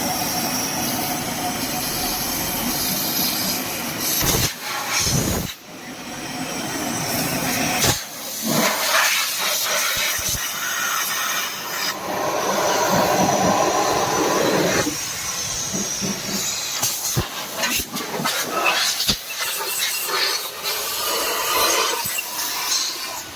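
Compressed air blasting through an engine intake pipeline and manifold of a Mahindra KUV100, a loud sustained rushing hiss broken by brief pauses and sharp bursts.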